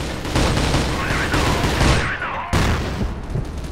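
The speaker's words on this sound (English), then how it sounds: "There's grenades going everywhere." Rapid gunfire and grenade blasts in the shooter game Cross Fire, dense bursts of shots over rumbling booms, loud and continuous with a brief sharp cut near the middle.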